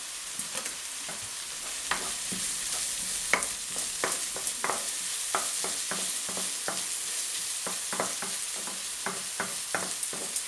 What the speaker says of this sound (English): add the ginger and garlic and then fry for a few seconds